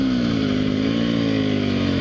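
Sherco 300 SEF-R trials motorcycle running steadily nearby while being ridden, a continuous mid-pitched engine drone with a slight warble and no sharp revs.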